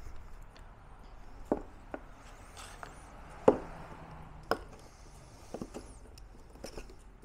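Bondo body filler being mixed in a bin for restoring JBL 4343 speaker cabinets and grills, heard as faint scattered knocks and scraping taps, a few sharper clicks, over low room noise without talk.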